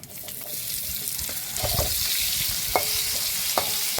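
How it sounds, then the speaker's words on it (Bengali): Onions fry in hot oil with black cumin seeds and bay leaves, a continuous close sizzle broken by a few sharp clinks and scrapes of stirring. "আমার পেঁয়াজটা সামান্য লাল লাল করে ভাজা হয়ে গেছে"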